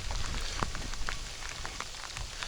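Heavy rain pours steadily over open sea during pike fishing, a dense continuous hiss with scattered sharper drops pattering close by, no voices.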